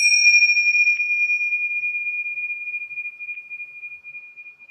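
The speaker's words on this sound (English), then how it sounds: "We are going to end our class with our bells." A single bell is struck to end a yoga class, a clear, close ring that sustains and slowly fades over several seconds with a faint pulsing shimmer, alone without talk.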